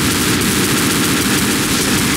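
Dense, rapid pistol fire in the video game Left 4 Dead rattles continuously at close range, a steady burst of sharp shots with no pauses or voices.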